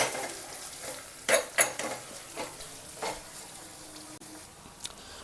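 A spiced tempering sizzles softly in a pan while a spoon stirs and scrapes against the metal, giving a few sharp clinks over a quiet, steady frying hiss.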